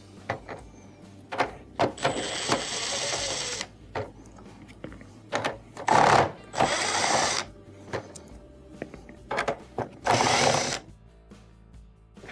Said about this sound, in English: Then go around and remove the other screws.